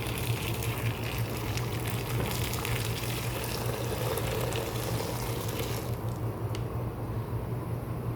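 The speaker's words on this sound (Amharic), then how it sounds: "አሁን እዚህ ጋር የፈላ ውሃ እንጨምራለን።" Boiling water poured into a cooking pot while making rice pudding with milk, a steady rushing, splashing pour with a low bubbling hum underneath, continuous and close.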